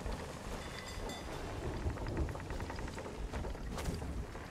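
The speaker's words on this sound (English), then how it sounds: "I can hear water somewhere, but I can't find the hole." Water sloshing and trickling inside a storm-tossed ship in a video game, a steady broadband wash with faint rain-like patter and low rumble throughout, no voices.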